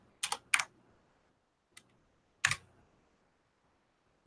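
A few separate keystrokes on a computer keyboard, clicking close and crisp in a quiet room: two quick taps, a faint click, then another tap after a pause.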